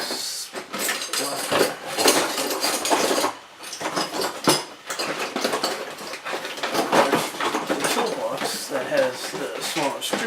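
Clattering of metal tools and bits being shoved around in a cluttered box or drawer during a hunt for a small screwdriver, with dense rattling and scraping in irregular bursts, close and fairly loud.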